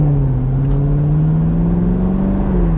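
Chevy Camaro SS convertible V8 engine and exhaust holding a steady deep rumble at a constant idle-to-low rev, loud and close, with no talking over it.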